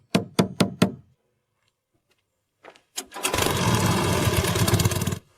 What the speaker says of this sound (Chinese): 发动机声音也稳